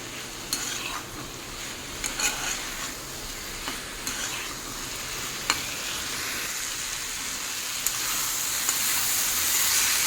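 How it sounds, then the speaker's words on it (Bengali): Vegetables and spices sizzle steadily in a pan over a high flame, with occasional scrapes and taps of a spatula stirring them, close and continuous, the frying hiss growing slightly louder toward the end. "দিয়ে ভালো করে মশলার সঙ্গে সবজিগুলো কষিয়ে নেব যতক্ষণ না জলটা শুকনো হয়"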